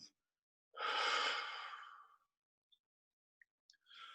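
A single long mouth exhale during a guided tai chi and qigong breathing session, a soft breathy rush that swells and fades over about a second and a half, followed by near silence and faint small sounds.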